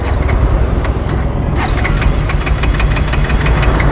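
A Bajaj Pulsar N250 motorcycle's electric starter cranks with an empty fuel tank, giving a loud, steady whirring churn that continues throughout without the engine catching, heard close up.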